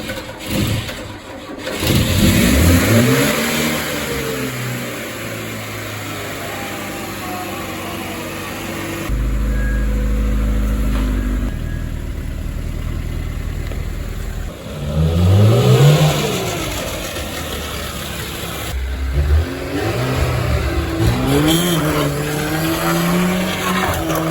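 A VAZ Zhiguli (Lada) engine revs repeatedly, rising and falling in pitch with loud bursts, close by and fairly loud, with steady idling between revs.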